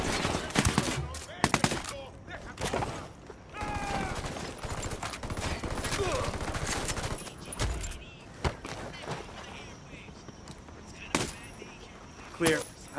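Automatic gunfire in a Ghost Recon Wildlands firefight while clearing a hostile camp, with repeated loud bursts and scattered single shots over about thirteen seconds, and voices calling out between volleys.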